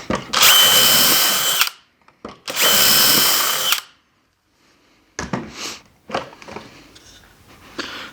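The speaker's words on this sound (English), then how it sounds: "I'm going to drill 2 holes into each one of these end pieces." Power drill boring holes into cedar planter stretcher pieces, two loud sustained whirring bursts of about a second and a half each, followed by quieter clattering handling of the wood.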